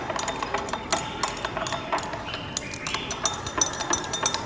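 Sodium chloride salt stirred into water in a glass: a rapid series of close, bright clinks as a spoon taps and scrapes the glass, irregular but continuous, with no voice.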